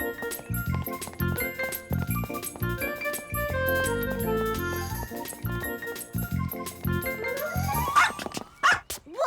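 A cartoon dog barks and yips over busy background music, with a jingling tinkle and a rising whimper-like squeal near the end.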